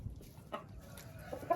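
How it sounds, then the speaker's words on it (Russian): A brown hen in a backyard coop, near nesting boxes, giving a few soft, low clucks close by amid quiet farmyard background. "Смотрите, пошла уже нестись коричневая курица."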